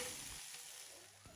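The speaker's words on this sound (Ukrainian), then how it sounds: "На великому вогні добре її обсмажую з обох боків до утворення ось такої рум'яної скоринки" Chicken liver fries in hot oil in a pan over high heat, giving a brief, soft, steady sizzle with a hissing crackle.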